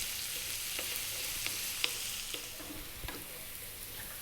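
Sweet potato stew fries above medium heat with a steady close sizzle, while a utensil stirs through it and knocks lightly against the pan a few times.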